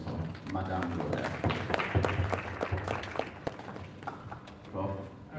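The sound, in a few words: audience applause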